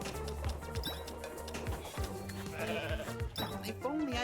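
Goat bleating in a Goat Simulator pinball table, several wavering bleats over busy electronic game sounds and music, fairly close and mixed with other effects.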